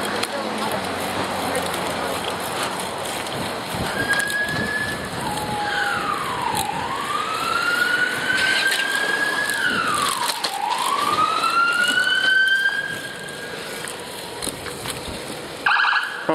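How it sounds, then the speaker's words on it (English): A police car siren wails through city streets, its pitch sweeping up and down in long glides as it passes a cyclist, over steady road and wind noise. "Oh, there's a police car. I'll just pull over."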